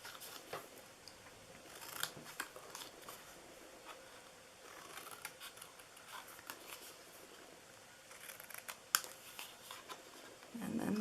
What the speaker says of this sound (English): I always cut in on each side here.